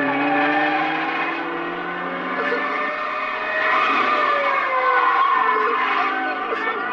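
A car in a 1974 Italian film chase, set in Milan, screeches and accelerates. Tires squeal in long rising and falling tones that layer over a steady engine roar, with no talking.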